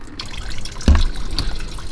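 Water draining out of a Ford 6.7 Power Stroke diesel fuel filter housing, a steady liquid trickle with a faint drip, close and moderately loud, no talking.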